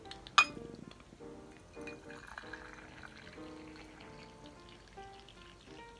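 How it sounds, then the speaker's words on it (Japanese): Hot water is poured into a teapot to warm it, with a sharp clink of ceramic near the start followed by a soft, quiet trickle and gentle pouring sounds, close up and mostly alone. "まず急須を温めます。"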